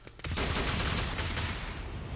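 A dense burst of gunfire in the video game Warhammer 40k: Rogue Trader, rapid overlapping shots starting abruptly after a brief quiet moment and rolling on loudly for about two seconds.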